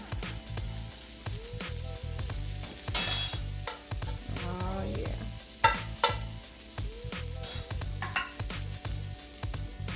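Steady sizzling of vegan pancake batter frying in margarine in a pan, with a few clinks and scrapes of a utensil, close by.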